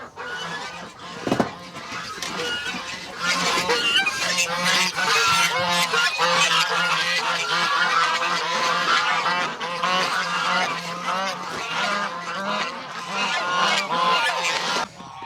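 Geese penned on a farm in freezing winter weather honk continuously in a loud, overlapping chorus, close by, with no talking.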